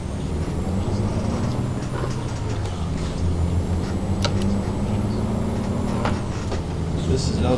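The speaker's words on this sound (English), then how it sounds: "This is another way to get this truck up to speed a lot faster, just rev the hell out of it." A Freightliner Argosy truck engine drones and revs steadily in Euro Truck Simulator 2, a loud continuous low rumble with faint hissing and clicks, while someone talks over it.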